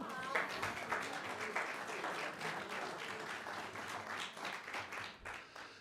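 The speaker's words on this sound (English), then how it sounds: "Doesn't that deserve an applause somewhere?" Applause from a crowd at a Carnegie Institute of Technology Class of 1963 50th reunion dinner: a dense, sustained wash of clapping that stays steady throughout and swells slightly near the end.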